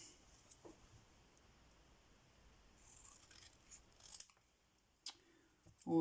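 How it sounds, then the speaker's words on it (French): Scissors snip a paper napkin for a framed napkin-decoupage card, making a few dry, light cuts that grow louder toward the end in an otherwise quiet room. "Donc, on va découper."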